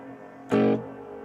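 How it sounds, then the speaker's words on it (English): A BOSS GT-1000 Core guitar processor puts a ring modulation effect on a short, loud, bright guitar burst of about a quarter second that stands out clearly over a steady low background hum. "So we've got a bit of ring modulation happening on the left there"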